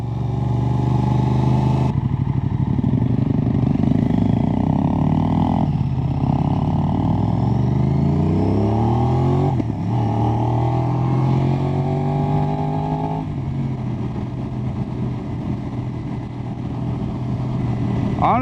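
An Aprilia RS660 sport motorcycle engine accelerates steadily while riding, loud and close, its pitch climbing through the gears with brief dips at each shift.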